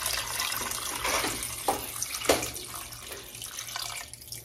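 Tap water runs steadily and moderately close while cooking beef short ribs, a soft continuous splashing with a couple of sharper spatters and a gradual fade at the end.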